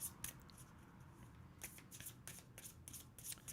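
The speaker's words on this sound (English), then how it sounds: "So while I shuffle, let's quickly look at the cards again." Tarot cards are shuffled up close in quick riffling bursts, a soft papery flutter with brief pauses between runs.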